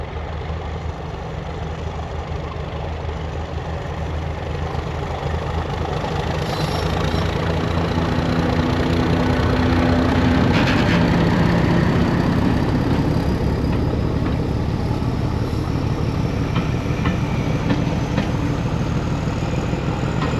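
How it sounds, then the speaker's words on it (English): A train's heavy engine rumbles steadily as it leaves the station heading towards Holt, slowly growing louder as it moves closer, with a faint high whine running through it. "filming of the train, the one that we was on. Now leaving the station and coming this way"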